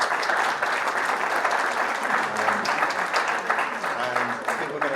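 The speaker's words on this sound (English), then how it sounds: "We'll get another round of applause for Rachel and the team there for putting the day together" A crowd applauds in thanks for the team who organised a LEAP day event, a dense, steady wash of clapping held at even loudness throughout, with a few voices murmuring faintly underneath.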